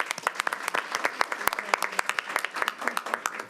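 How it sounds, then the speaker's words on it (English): Attendees at a school board of education meeting applauding a district honoree, sparse distinct claps from a small group in an irregular patter, with a faint voice underneath. "So big applause for Anthony Hall"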